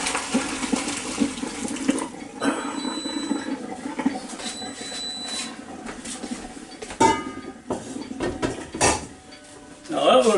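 Liquid is poured into a Ninja Foodi Deluxe cooking pot for a roasted garlic alfredo and penne pasta dish, with close trickling and splashing broken up by clinks and clatters of cookware, loud near the end.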